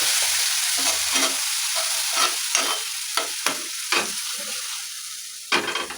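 Onion, tomato and Kashmiri chili paste sizzles steadily in a hot pan, a continuous frying hiss broken by repeated scraping stirs of a spoon against the pan.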